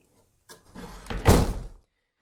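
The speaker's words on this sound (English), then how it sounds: "This door you just push to open." A hidden interior door in a house is pushed open, giving a single dull thunk and a brief rustling swing, close by and with no voices.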